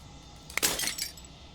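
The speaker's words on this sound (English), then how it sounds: "The final fragment of glass shatters." Glass shatters in the video game Slay the Princess: a single sharp crack followed by a bright, crumbling tinkle of breaking glass that fades over about half a second, alone with no voice.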